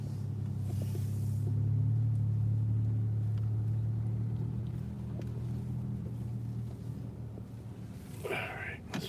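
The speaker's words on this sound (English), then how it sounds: "Garbage truck in the way." Garbage truck idling on a city street, a steady low engine rumble close by that swells early and then eases, with a brief sharper mechanical burst near the end.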